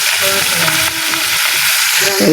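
Fish sizzles loudly in a frying pan of hot oil, a dense continuous crackle close up, with a few faint voices and clinks underneath.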